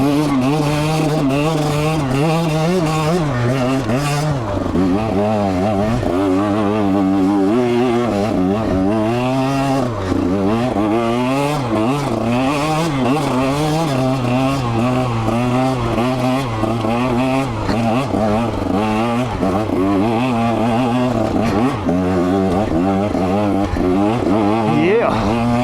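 2021 KTM 125 XC two-stroke dirt bike climbing a hill, its engine loud and close, revving and dropping in constant wavering pitch swings with a steady buzzing drone throughout.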